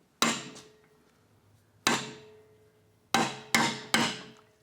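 A hammer taps a race driver to seat the timing cover seal on a Ford 5.4L 3V engine: five sharp, close metallic strikes, one alone, then a quicker cluster of three, each ringing briefly in a quiet room.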